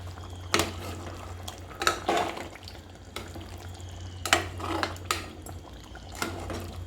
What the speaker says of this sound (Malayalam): സകലം കുറുമുളക് പൊടി കൂടെ ചേർക്കണം ചേർത്ത് ഒന്ന് ഇളക്കി കൊടുക്കണേ